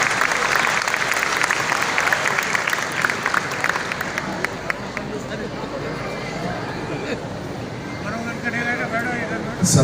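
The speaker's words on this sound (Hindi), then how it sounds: "जोरदार तालियों से उनका इस्तकबाल।" A crowd at an All India mushaira marking 40 years of Deccan Medical College gives sustained, loud applause to welcome poet Jahaz Deobandi; dense clapping fills the whole stretch with faint voices mixed in.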